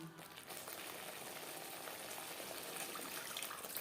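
Water used to rinse spice bowls is poured into a simmering fish curry masala, giving a steady close hiss and bubbling wash of liquid with no voices, slightly louder toward the end.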